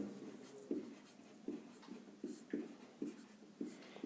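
A pen writes the first term of an arithmetic progression in a maths exercise. It makes faint, rhythmic scratching strokes in short bursts with brief gaps, with no talk.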